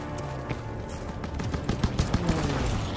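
A flak gun in Call of Duty WW2 fires at diving Stuka dive bombers in a battlefield scene, a dense, loud stream of rapid shots and bursts building steadily over a constant din of combat.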